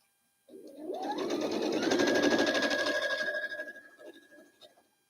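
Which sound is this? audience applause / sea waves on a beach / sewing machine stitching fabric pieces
sewing machine stitching fabric pieces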